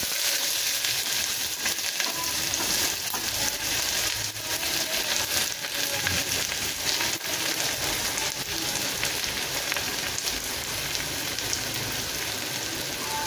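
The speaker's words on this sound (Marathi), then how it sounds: "फक्त थोडा कलर चेंज करेपर्यंत आपण त्याला परतून घेणार आहोत" Chopped onion sautéing in a pan for masala khichdi, a continuous dense crackling sizzle like steady rain, close and even throughout with faint stirring and no speech.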